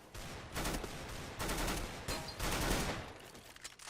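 CS:GO gunfire in rapid bursts, several clusters of sharp, closely spaced shots separated by short gaps, fairly loud and close.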